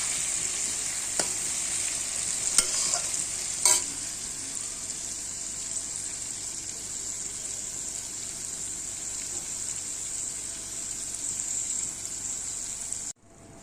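Turmeric-coated food fries in a pan for a thin egg curry, a steady close sizzle with a few sharp clinks early on, then abruptly stopping at the end.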